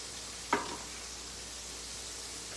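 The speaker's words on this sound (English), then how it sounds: "you want your grease hot with these, because you do cook them fast" Thin steak cutlets frying in hot grease, giving a steady close sizzle with a brief sharp clink of a utensil near the start.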